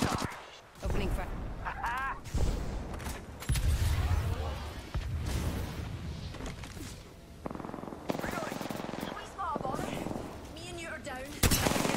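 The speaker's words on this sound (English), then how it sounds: "They're shooting at me." Gunfire erupts in the video game Apex Legends, with rapid bursts of automatic weapon fire and sharp shots in clusters, loud and close, mixed with other game effects.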